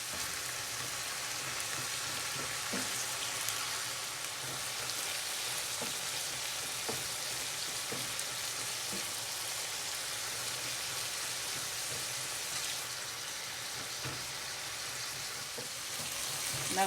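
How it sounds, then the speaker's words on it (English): Minced meat for keema curry sizzles steadily in a pan, with a dense, even frying hiss throughout and occasional light scrapes and taps from stirring, close and fairly quiet, with no talk. "Keep stirring till the color of the meat changes."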